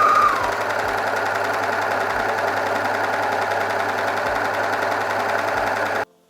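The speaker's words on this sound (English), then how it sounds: "now I'm just gonna sew all around this edge" A sewing machine runs steadily stitching around the edge of a scarf top, a continuous close mechanical whir with a faint periodic knock, stopping abruptly near the end.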